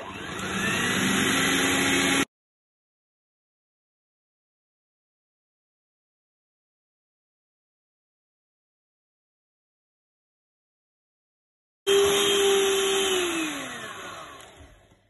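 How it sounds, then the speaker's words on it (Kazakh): An electric mixer whips egg whites and sugar into meringue, a loud steady close whir that runs briefly, cuts out for a long silence, then starts again and winds down in pitch. "көпірімізді миксерлейміз"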